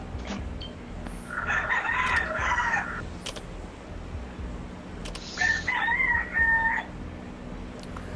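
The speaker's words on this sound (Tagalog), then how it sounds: "naririnig niyo po yung mga manok" Two drawn-out rooster crows, a few seconds apart, rise over a steady low hum and faint background noise.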